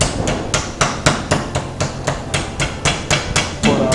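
A kitchen mallet pounds a piece of chicken flat, about fourteen loud, close, evenly spaced thuds at a brisk steady rhythm, with no talking.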